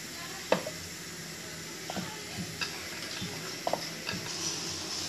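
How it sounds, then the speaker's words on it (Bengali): Luchi, thick rolled flatbread, frying in hot oil, giving a soft continuous sizzle with a few sharp pops and crackles scattered across the stretch, fairly faint and close. "এবার এটাকেও তেলে ভেজে নিচ্ছি"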